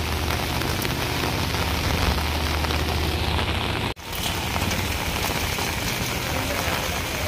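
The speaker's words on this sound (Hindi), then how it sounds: "बाहर बड़ी तगड़ी बारिश हो रही है" Heavy rain pours down in Delhi as a steady, loud, close hiss that fills the whole stretch, broken only by a split-second dropout midway.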